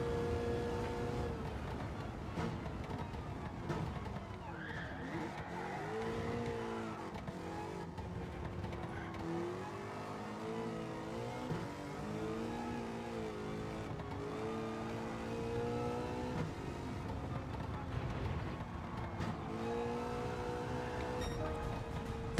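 A DeLorean with a swapped LS7 V8 races on nitrous in Gran Turismo 7, its engine droning steadily at high revs with shifting pitch and gear changes, loud and continuous throughout without talk.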